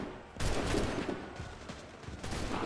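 A musket volley fires in Assassin's Creed 3, a sudden loud burst of overlapping gunshots followed by a crackling, rumbling tail and scattered further shots.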